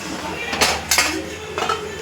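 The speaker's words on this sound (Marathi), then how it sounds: "आता आपण एका प्लेटमध्ये त्यांना काढून घेऊ" Fried onions are scooped from the pan onto a plate, giving a few close metallic clinks and scrapes of a utensil against cookware over faint background hiss.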